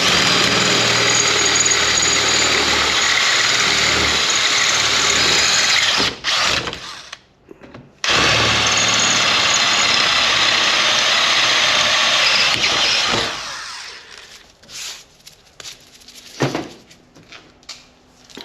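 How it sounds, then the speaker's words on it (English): A letter F drill bit bores through the steel frame of a Yamaha Grizzly ATV, loud steady whirring and grinding in two long runs with a short pause between, then quieter clicks and handling noises. "I'm just going to run this drill down through here."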